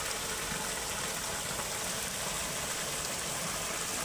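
Heavy rain pours steadily outside a mud house, a dense, even hiss of downpour that stays unbroken from start to finish, with no voices.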